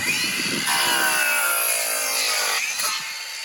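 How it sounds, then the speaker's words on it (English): A battery-powered tool runs at steady high speed while preparing a garden outdoors, a loud continuous whine that holds for about three seconds and then winds down, with no voices. "This is when battery power tools are amazing."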